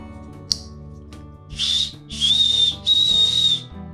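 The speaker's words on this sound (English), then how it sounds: "a paracord bracelet with a whistle on it." A small whistle on a paracord survival bracelet is blown three times in quick succession, each a short, shrill, breathy toot, close to the mic after a faint click.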